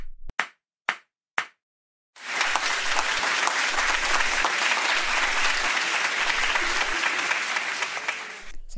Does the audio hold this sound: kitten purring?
no